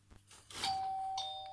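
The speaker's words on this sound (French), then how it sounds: "Et la sonnette." A toy Playmobil house doorbell rings with a bright electronic chime, a sustained tone holding after a couple of soft knocks, fairly quiet and close by.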